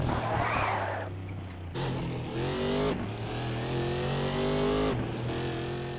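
Race car engine from a Codemasters racing video game, revving and shifting through gears up close, with rising and falling pitch sweeps over a steady low rumble.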